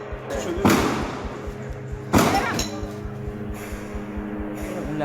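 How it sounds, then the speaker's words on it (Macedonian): Two loud gunshots fired by security forces at a street protest in Iran crack out about a second and a half apart, each a sharp broadband burst, over a steady rumbling crowd and background noise. "Потоа се слушаат истрели."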